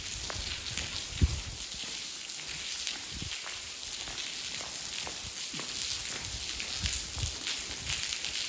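Rain drips through leaks onto a woodland trail, an irregular patter of close drops and splats over a steady background hiss of rainfall, with no talking.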